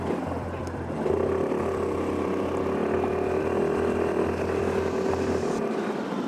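A 2022 Suzuki Burgman Street 125cc scooter on the move, its engine a steady, continuous drone mixed with rushing wind, loud and close with no talking.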